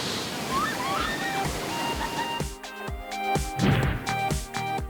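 A waterfall pours and water splashes at a camp, a loud rushing wash first, then broken splashes and sloshing close by, with no clear talking.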